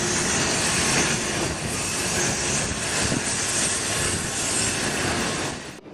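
Amtrak's Coast Starlight passenger train pulls out of a station with a loud, broad, steady roar of wheels and movement close by. The sound holds for several seconds and then tails off at the end.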